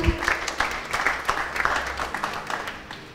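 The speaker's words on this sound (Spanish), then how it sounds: "Fuerte aplauso también para ella." Audience applause at an architects' panel event, many hands clapping in a brisk, even patter that fades toward the end, heard alone at moderate volume.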